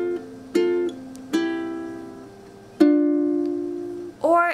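A ukulele picks the second measure of Twinkle Twinkle Little Star, four plucked notes with held sustains at an even pace, close and clear, followed by a brief extra pluck at the end.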